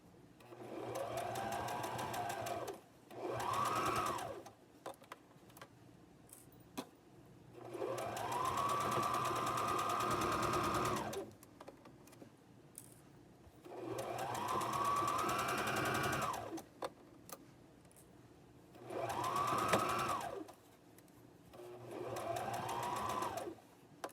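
A sewing machine stitches across bulky fabric seams in five long bursts separated by pauses, each run revving up to a steady whirring hum, close and loud with no talking.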